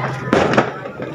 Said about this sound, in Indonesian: masih terdengar bebeledugan